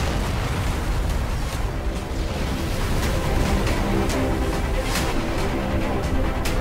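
The tarantula boss in X-Morph blows apart in a sustained, loud explosive roar, with a thick rumbling wash broken by repeated sharp bursts and crackles and no talking.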